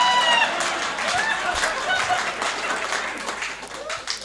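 Applause from the audience at a Hindi comedy poetry gathering, a steady roar of clapping that slowly thins over about four seconds, with faint voices mixed in.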